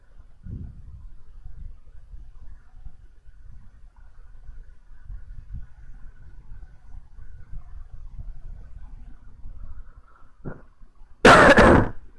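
Near silence with faint low rumbling, then a short throat sound and a single loud, harsh cough close to the microphone near the end.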